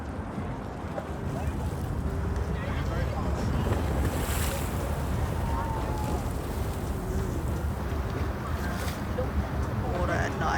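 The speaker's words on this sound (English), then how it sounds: "Water at night." Night-time water washes and laps in a broad, steady rush, with wind buffeting the microphone and faint talk in the background.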